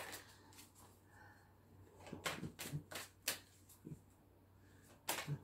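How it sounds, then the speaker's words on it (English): Tarot cards shuffled by hand in a quiet room, giving a handful of crisp slapping riffles and soft flicks spaced irregularly, close and fairly faint. "Let me shuffle up some of these cards."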